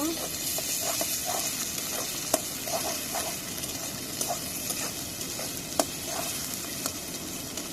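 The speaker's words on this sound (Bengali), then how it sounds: "এখন পেঁয়াজ রসুন ভেজে নিছি" Onion, garlic and green chilies frying in oil in a pan, a steady close sizzle with scattered crackles and occasional sharp clicks of stirring, with faint talk in the background.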